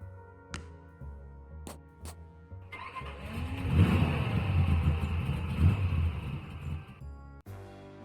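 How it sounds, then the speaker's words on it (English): A 1937 Buick car engine in a point-and-click video game, rumbling low and steady for several seconds after a few sharp clicks, then cutting off abruptly near the end. "This is my car, a 37 Buick,"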